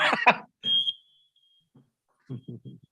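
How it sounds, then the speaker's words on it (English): A fire alarm in a city council meeting room sounds a single thin, high electronic tone that holds for about a second, with people talking briefly before and after it. "First time I've had the fire alarm go off in this unit."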